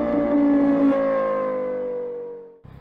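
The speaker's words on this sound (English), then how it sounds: "Yamaha, the brand that also designs instruments, also makes really good sounding engines" A 2024 Yamaha MT-09 motorcycle engine revs loudly once, holding a strong droning tone that slowly sinks in pitch for about two and a half seconds before cutting off abruptly.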